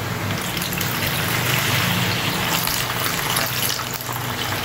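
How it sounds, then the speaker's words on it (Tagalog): Water gushes steadily and loudly into a container over raw pork chops set to soak for frying, a continuous close rushing pour with no talk. "Maglalagay na tayo dito ng tubig kaili."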